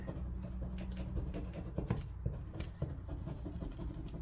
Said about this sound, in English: I'm going to use a bone folder and burnish it